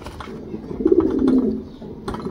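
A ten-year-old racing pigeon, paired with an Arabian racer hen, gives one sustained, throaty coo close by that swells and fades over about a second, with faint handling noise before and after.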